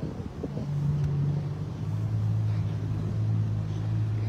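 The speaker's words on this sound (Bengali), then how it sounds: "একটা বোটে উঠে এখন আমরা যাচ্ছি, স্পিড বোটে।" A speedboat running far out on the Atlantic Ocean off Lisbon, its steady low engine drone holding throughout, mixed with rushing wind buffeting the microphone and water noise.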